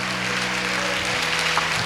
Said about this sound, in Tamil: ஒரு கைதட்டு கொடுத்து ஆண்டவருக்கு மகிமை செலுத்தக்கூடாதா?